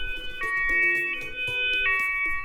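An ambulance siren wails at a moderate distance near a Rhine riverside town, with repeated tonal sweeps cycling several times, fairly faint, and no voices present.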